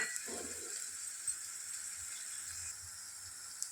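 Curry leaves drop into hot oil in a pan for a broad bean and green chilli fry and sizzle with a steady, fairly faint hiss that continues without talking.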